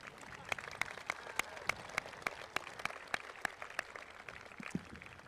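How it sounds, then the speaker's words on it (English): A crowd applauds the class speakers at a 2023 high school commencement. Individual claps ring out, faint and distant, in a loose rhythm over soft crowd noise. "let's have one more round of applause for all of our class speakers."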